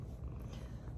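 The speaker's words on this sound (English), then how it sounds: "She's purring though." A cat purring softly and close by, a low continuous rumble that holds steady with no other sounds.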